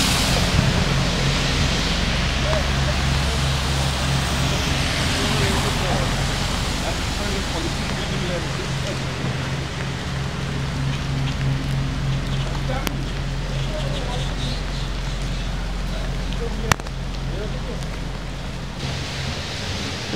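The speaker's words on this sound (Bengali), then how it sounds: "প্রচণ্ড বৃষ্টি বাইরে।" Heavy rain pours outside in Key West, a dense, continuous roar that stays close and loud for the whole stretch, with faint voices underneath.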